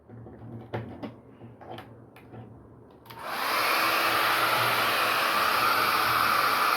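After a few seconds of quiet handling taps, a hair dryer switches on abruptly and blows at a steady, loud whoosh close by over a watercolor painting.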